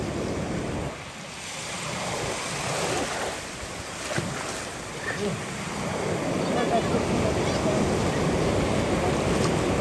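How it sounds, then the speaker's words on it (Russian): Pacific Ocean waves washing onto the shore, a loud, continuous rush of surf with strong wind buffeting the microphone and a few swells rising and receding. "волна уходит и снова волна идет,"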